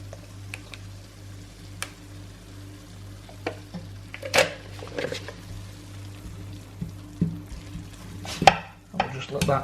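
Cream and cauliflower cooking in a pan give a soft, steady simmer and sizzle, broken by scattered utensil scrapes and a few sharp knocks against the pan.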